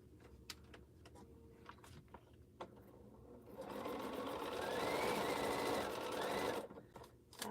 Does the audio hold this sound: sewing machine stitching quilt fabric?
yes